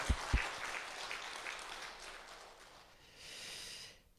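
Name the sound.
church congregation applauding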